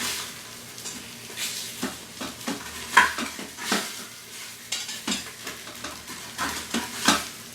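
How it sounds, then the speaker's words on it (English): A spatula scrapes the bottom of an Instant Pot with food sticking, repeated rhythmic scraping strokes over a light sizzle, close and clear, with occasional metallic clinks. "I'm going to use a spatula here, kind of scrape up the bottom."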